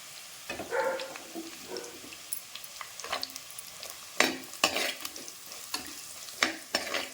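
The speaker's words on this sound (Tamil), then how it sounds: "போட்டு ரெண்டுமே வதங்கிட்டோம் இப்போ வந்து இந்த அளவுக்கு கலர் மாறி இருக்குது" Shallots sauté in oil for a garlic kuzhambu, giving a soft sizzle under repeated stirring scrapes and clinks of a spoon against the pan.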